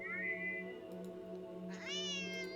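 In a horror video game, a cat meows twice over a steady low electronic hum. The first meow is softer and drawn out, and the second is louder and rises in pitch.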